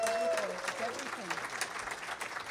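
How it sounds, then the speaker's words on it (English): Audience applause at a fan convention panel as a guest actress walks in. The clapping runs under an amplified voice that talks across most of it, and the crowd is fairly close. "Everyone give her a round of applause."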